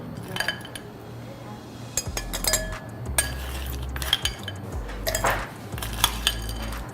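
Ice cubes clink and knock against a glass and each other as they drop in while an iced palm-sugar coffee jelly drink is being made, in a short series of bright, irregular rattles with no talking.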